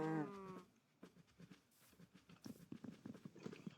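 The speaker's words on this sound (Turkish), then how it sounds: "Mesela bu inek." A cow in Minecraft gives a short moo-like call at the start, followed by a run of soft clip-clop footstep taps from game animals over quiet background.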